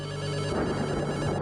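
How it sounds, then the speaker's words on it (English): An incoming phone call rings with a steady electronic telephone ringtone, a continuous tonal pattern heard clearly and alone without any talk. "Another phone call. That sound is beginning to get on my nerves."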